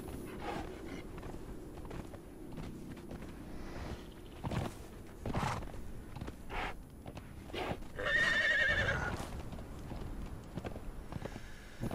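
Horse neighing and clip-clop hooves in a medieval video game, with a whinny rising around the middle, hoofbeats and other game sounds scattered throughout at moderate volume, no talk.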